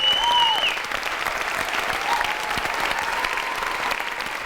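An audience at an Edinburgh Fringe show applauds in a dense, sustained patter of clapping, with a couple of whistles early on, steady and moderately loud.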